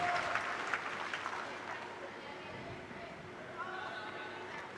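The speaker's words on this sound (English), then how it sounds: "That'll get the crowd going as well." Tennis crowd at the Billie Jean King Cup Finals applauding and cheering after a stunning return, a broad wash of clapping that is strongest at first and then settles, heard from a distance with a commentator's voice over it.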